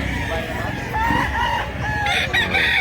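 A big pumpkin-colored rooster with yellow legs crows at a fowl market in Mantalungon, Cebu, a drawn-out call rising over steady crowd murmur and other birds, ending in a higher burst.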